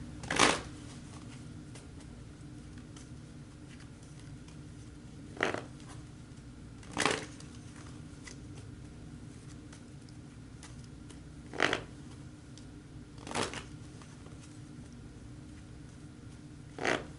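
Tarot cards are shuffled and drawn during a reading, with about seven short, crisp riffling bursts spaced irregularly over a quiet background.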